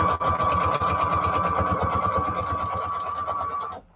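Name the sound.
sewing machine running, speed controlled by foot pedal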